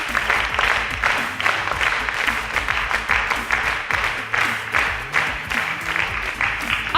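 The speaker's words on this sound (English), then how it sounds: "A round of applause for our champions." A studio audience applauds the junior secondary school champions of a Nigerian quiz show, a dense, steady patter of many hands clapping continuously throughout, moderately loud and close.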